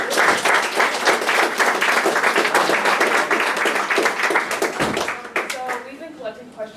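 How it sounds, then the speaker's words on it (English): An audience at an ethics and Olympics panel discussion applauds the panelists with dense, steady clapping that fills the room, then fades out toward the end of the clip. "let's give a round of applause for our panelists"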